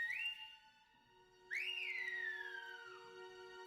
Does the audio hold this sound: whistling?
yes